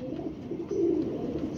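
Pigeons coo softly in a loft where a hobbyist keeps a flock of female pigeons, a low steady murmur of overlapping calls filling the space without speech.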